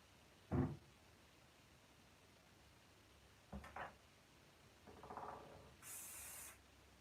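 Hair spray is squirted onto a hand in a quiet indoor room: a few soft handling clunks and brief rustles come first, then one short, bright hiss of spray near the end.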